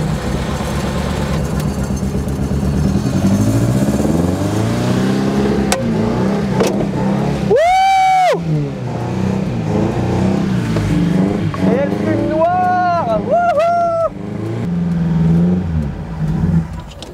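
An old car engine, stopped for 29 years and fitted with an electric fuel pump, labours and then catches, revving up and down in rising and falling surges, while excited voices call out nearby.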